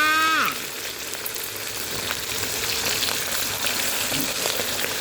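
Fried snacks sizzling steadily in hot oil, a loud, dense crackling hiss that runs without a break after a brief falling tone at the start.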